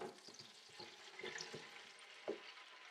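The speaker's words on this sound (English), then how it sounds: "Hear that sizzling, right?" Faint, steady sizzling and crackling of bacon cooking in an air fryer, with small pops and spits scattered through a low frying hiss.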